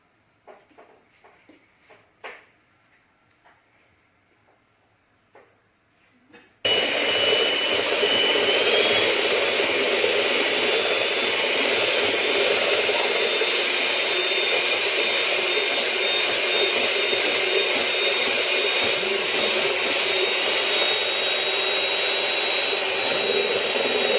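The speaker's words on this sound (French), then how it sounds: "Et là on va utiliser le batteur." An electric hand mixer whips chocolate mousse. A few quiet handling clicks come first, then the motor starts abruptly and holds a loud, steady whirring drone to the end.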